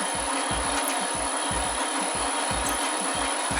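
Metal lathe on a new frequency drive turning at a very low speed, around 3 hertz, cutting steadily with a rhythmic thumping and scraping pulse about three times a second under a constant high whine.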